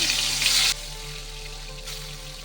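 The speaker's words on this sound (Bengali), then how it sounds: "মাছটা কিন্তু হালকা ভাজবো বেশি ভাজবো না" Fish fries in hot oil in a pan, sizzling loudly for a moment, then dropping to a softer steady frying hiss with a low hum underneath.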